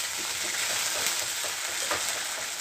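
Ginger garlic paste hisses in a hot pan, a loud, dense and continuous sizzle close by with faint stirring underneath and no voices.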